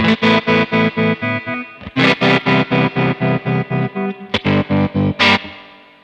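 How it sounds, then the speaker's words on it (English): An electric guitar played through a Kemper Profiler with spring reverb placed after a tremolo gives a loud, distorted sustained chord that is chopped into fast, even pulses, with a few brief pick and string noises between the pulsing sections. "So we have spring reverb behind the tremolo."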